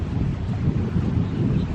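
Wind buffets the microphone outdoors on a windy day, a steady loud low rumble and roar that continues unbroken, with no voices.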